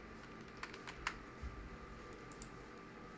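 Number keys tapped on a computer keyboard while entering a figure into an Excel spreadsheet, a few separate light clicks close up over a steady background hiss.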